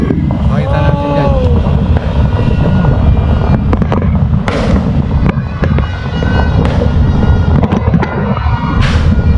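Fireworks and firecrackers burst repeatedly during a New Year celebration, sharp loud cracks and booms over a steady roar of wind and crowd noise, with a person speaking.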